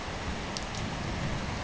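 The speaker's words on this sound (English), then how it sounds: "I was just trying to get out of the rain." Rain falls steadily, a soft even hiss of drops on the ground with no break, fairly quiet and close.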